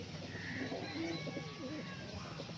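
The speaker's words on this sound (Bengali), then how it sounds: "এই যে কালসিরা পায়রাগুলো দেখে নাও, পুরো কালসিরা তো কালসিরা" Kalsira pigeons, a pure Andhra breed kept in a loft, coo in soft low repeated murmurs that layer over a steady background hum, close by and moderately loud.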